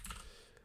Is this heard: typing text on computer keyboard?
yes